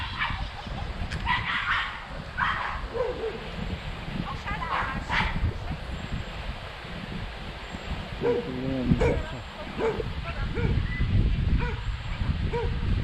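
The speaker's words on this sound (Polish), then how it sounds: "Pieskowie awantura." Several dogs bark, yip and whimper in a squabble, with sharp barks repeating through the scene over a busy background, some near and some farther off.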